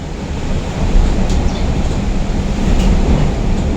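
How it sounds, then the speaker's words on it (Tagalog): Loud, steady roaring rush of strong wind buffeting close by, a continuous low rumble that swells slightly without pause. "napakalakas po ng hangin dito"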